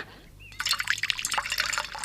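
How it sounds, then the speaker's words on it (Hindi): Water poured into an animal's drinking vessel in the morning, a splashing, trickling pour that starts abruptly about halfway through and continues steadily and close. "उस दिन सुबह धनी बिन्नी को हरी घास खिलाकर उसके बर्तन में पानी डालते हुए बोला"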